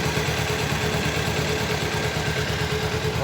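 A Kawasaki Ninja 300 motorcycle idles slowly and steadily at close range after its first 1000 km paid service, a continuous low engine rumble with no talk over it.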